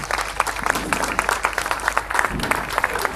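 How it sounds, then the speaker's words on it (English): A live event audience breaks into a round of applause for the sponsors, a dense, steady wash of many hands clapping throughout, moderately loud with crowd murmur beneath. "if you can join me in a round of applause for all of our sponsors today"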